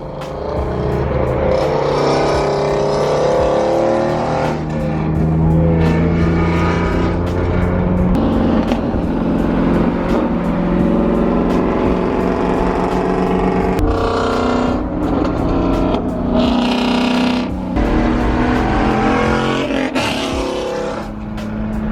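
A loud BMW E36 M3 engine roars continuously while drifting, revving up and down through gear changes for about twenty seconds, close by and dominating.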